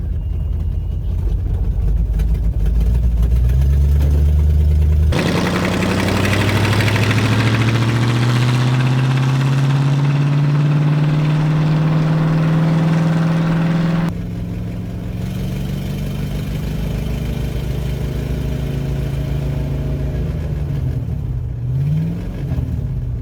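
A 1970 V8 Ford Mustang, abandoned for decades, runs and drives, its engine droning loudly and steadily with rising revs as it pulls through the gears, then settling into a rough, lumpy idle.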